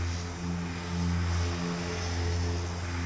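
A simulated ATR-72 turboprop airliner with multi-blade propellers drones steadily in flight in the X-Plane game. The engine hum is even, continuous and fairly loud, with no talk.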